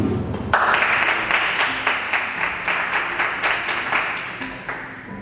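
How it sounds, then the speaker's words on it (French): Wedding guests at a French civil ceremony clap together in a steady, fairly close round of applause that starts suddenly and holds at an even level, with sharp individual claps standing out. "Ça s'applaudit."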